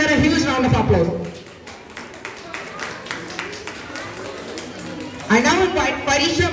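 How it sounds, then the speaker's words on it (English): Audience at a kindergarten graduation ceremony applauds for a few seconds between spoken announcements, a steady patter of many hands that rises again near the end, with voices heard before and after. "Please give her a huge round of applause."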